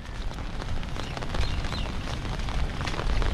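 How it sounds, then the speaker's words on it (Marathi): Heavy rain with strong wind pours down on an organic vegetable plot, a dense, loud, close patter without any talk. "हे बघा, पाऊस खूप जबरदस्त आहे"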